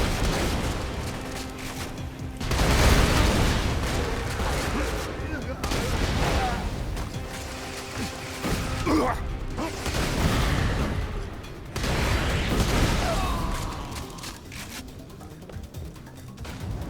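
Shotguns fire repeatedly in Borderlands 2 during combat: dense, booming blasts in clustered bursts over busy game noise, with a player talking throughout.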